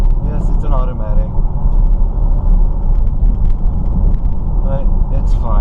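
From inside a 2010 Camaro V6 automatic, a low, steady exhaust drone rumbles continuously beneath someone talking in the cabin.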